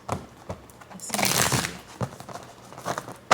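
Tarot cards being shuffled by hand during a reading, a soft riffling flurry in the middle with lighter papery taps and slides before and after, close and fairly quiet.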